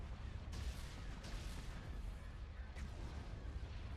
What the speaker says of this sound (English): Charge laser cannons.